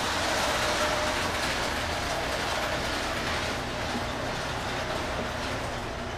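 Steady rumbling of small trains running along a track, with a continuous clatter and whir that holds evenly throughout.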